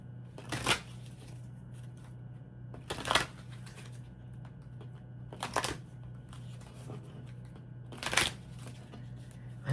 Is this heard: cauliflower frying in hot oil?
no